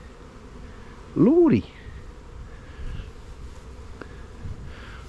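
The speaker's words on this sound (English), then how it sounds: "That was a queen wasp, just looking for a new place to make her wasp nest." A large queen wasp buzzes close past for about half a second with a rising and falling drone, then the outdoor air goes quiet apart from faint background noise; a voice mutters briefly.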